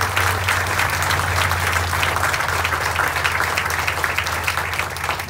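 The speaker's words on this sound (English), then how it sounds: "Let's give them a nice round of applause." Sustained applause from an audience honoring Vietnamese Army and military guests at a ceremony, steady and full throughout with no talking over it.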